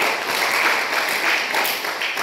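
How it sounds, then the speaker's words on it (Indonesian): A church congregation applauds together during a sermon, a dense, steady wash of many hands clapping at moderate loudness with no voices on top. "Tepuk tangan dulu buat Tuhan."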